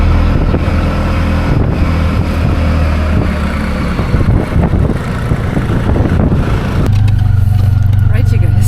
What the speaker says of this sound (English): we managed to drive the street part of this tuk-tuk journey